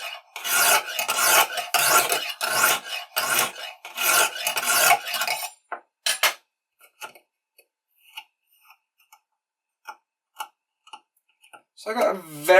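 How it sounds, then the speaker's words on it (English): Knife blade drawn against a Lansky sharpening system hone, stroking only inward: a run of loud, rhythmic rasping strokes at close range for about five seconds, then sparse faint ticks and scrapes with a brief rasp at the end. "Grinding it only inwards like this gives you less of a burr"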